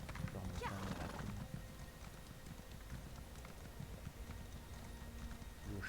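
Horse hooves clip-clopping in the fantasy video game The Elder Scrolls Online, a steady galloping rhythm heard close and loud throughout, with a brief whinny early on and game ambience underneath.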